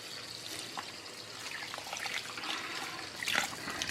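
Water runs steadily over a silicone wax melt mould being rinsed, a close, continuous splashing trickle at even strength that swells slightly toward the end.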